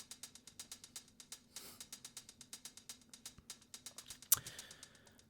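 Closed hi-hat with delay, soloed in Ableton: fast, bright, evenly spaced ticks running in a steady quick pulse with soft echoing repeats, faint and alone, broken by a brief noisy swell and a sharp click near the end.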